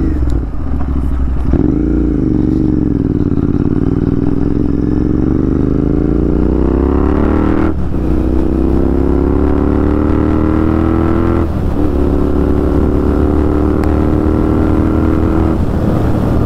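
A Royal Enfield Interceptor 650 fitted with a Red Rooster aftermarket performance exhaust idles loudly nearby with a deep, throbbing note, then revs up in steps that raise the pitch. There is no speech.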